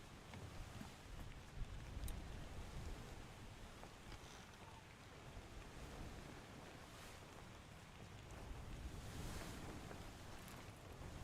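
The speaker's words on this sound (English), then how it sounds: "Ooh, it's raining." Rain pattering on the wooden deck of a ship in Return of the Obra Dinn, a steady, dense hiss of drops with gusts of wind that holds evenly throughout with no talking.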